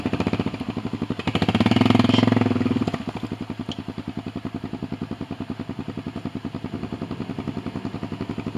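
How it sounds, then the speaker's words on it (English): A Kawasaki Brute Force ATV's engine putters steadily and rapidly, with a brief louder gurgling swell near the start as its exhaust bubbles underwater, continuing as a rhythmic chug. "That's the sound of my exhaust going underwater."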